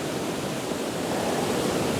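Waterfalls at Burgess Falls State Park in Tennessee, a steady broadband roar of falling water that holds even and unbroken from a moderate distance, with no voices over it.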